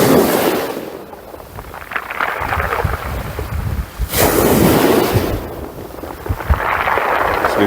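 Gusting wind buffets the microphone at an outdoor match-fishing spot by the water, with broad rushing surges rising and falling in waves over several seconds, loud and close, no voices.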